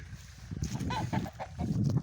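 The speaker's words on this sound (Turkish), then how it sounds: "Tavuklar." Chickens clucking and murmuring close by in a village garden in Cyprus, a steady flock chatter with a few louder squawks, no talking.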